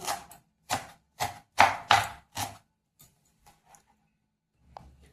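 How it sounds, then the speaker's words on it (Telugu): Coriander leaves are chopped with a knife: six crisp, close knocks on a board, then a few faint taps and quiet. "కొత్తిమీర కూడా కోసుకుందాం"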